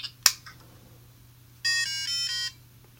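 A short electronic chime sequence of bright, beeping tones plays after a couple of faint clicks as a Brain Bash handheld electronic game powers on.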